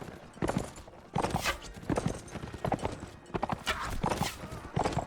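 Horses charging across a battlefield in the video game Mount & Blade Warband, with rapid bursts of clip-clopping hooves coming in uneven waves at close range.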